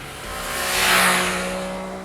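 An MV Agusta Brutale 800 motorcycle engine with a steady tonal drone that swells to a loud peak near the middle and then fades, as if sweeping past, with no voices.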